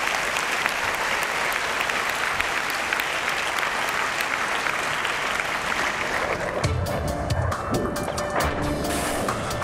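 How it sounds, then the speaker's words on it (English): A studio audience applauds before a UN Secretary-General debate, loud, dense clapping filling the room, then thinning into scattered individual claps in the last few seconds. "And you can applaud as well, of course"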